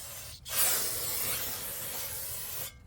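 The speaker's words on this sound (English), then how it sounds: "spray the caliper right here and the piston inside." Brake cleaner sprays from an aerosol can onto an Acura TL brake caliper and its piston in one continuous loud hiss lasting about two seconds, close up, beginning and ending abruptly.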